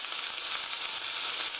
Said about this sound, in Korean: 3분 정도 볶아주세요. 너무 막 젓지 마시고 밑에 약간 색깔이 날 때까지 그냥 두셨다가 살살 볶으시면 돼요